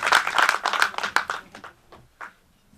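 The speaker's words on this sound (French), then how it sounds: "Applaudissez s'il vous plaît." An audience at a French legal workshop on naturalisation rights claps together in a brief burst of applause that thins into a few scattered claps and dies away.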